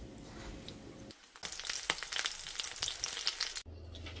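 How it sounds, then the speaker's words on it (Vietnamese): Battered shrimp frying in a pan, a dense crackling sizzle close by that surges loud for a couple of seconds with sharp pops, then eases back to a low hiss. "tôm chiên bột á."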